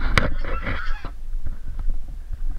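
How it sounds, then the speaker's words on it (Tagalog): A domestic goose honks loudly several times in quick succession, close by, at a campsite in Malico, Pangasinan, followed by quieter rustling and scattered thumps. "Ayan yung alaga nilang gansa."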